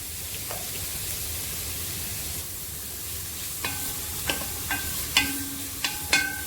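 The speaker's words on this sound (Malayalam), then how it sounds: "ഇത് നന്നായി വഴറ്റിയെടുക്കാം." Grated carrot sautéing in a pan, a soft steady sizzle at first, then a run of bright metallic clinks and taps from stirring against the pan.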